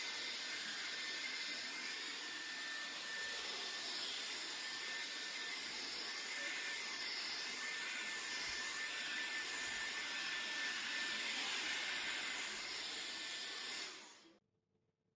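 A compact cordless air duster works as a vacuum on a couch, giving a loud, steady high-pitched whine with a constant airy hiss. It runs close and unbroken for about fourteen seconds, then cuts off abruptly.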